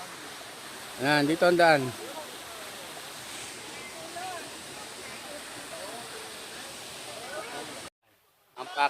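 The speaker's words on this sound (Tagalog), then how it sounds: "yan ang unang falls" Waterfall at a rocky spot in Zambales, its steady broadband rush running continuously in the background while people talk briefly over it, cutting off abruptly near the end.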